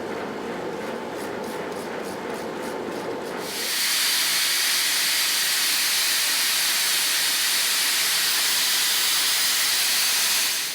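A small hot forged blade is held in vise grips against a wire wheel spinning on an angle grinder clamped in a vise, giving a loud, steady, harsh hiss that kicks in a few seconds in and runs on unbroken.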